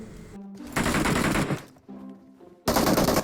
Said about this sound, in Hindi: तो मैंने हवाई फायरिंग कर दी